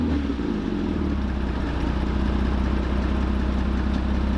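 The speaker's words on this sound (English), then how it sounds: "we'll start the engine and listen out for that" A Porsche Cayman 987 engine with an aftermarket exhaust runs steadily, a loud, even low rumble with a constant idle throb and no voices.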